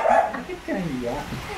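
Dog giving a quick bark or yip up close at the start, followed by whiny, whimpering vocal sounds, with people's voices mixed in.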